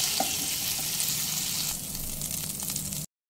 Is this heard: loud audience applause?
no